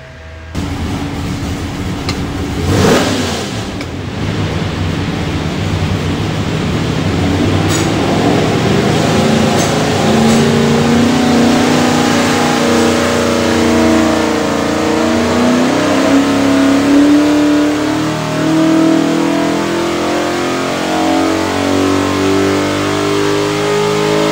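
A 427ci Chevy stroker V8 with an MSD Pro billet distributor and Holley front end, for a '67 C10 pickup, revs loudly on a dyno, climbing steadily in a long, sustained pull that drops off at the end.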